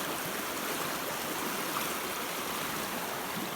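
River water rushing steadily at a four-wheel-drive crossing on the Dargo tracks, a continuous broadband wash of flowing current, close and even throughout with no voices.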